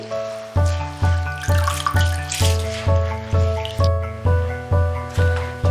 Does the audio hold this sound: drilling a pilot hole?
no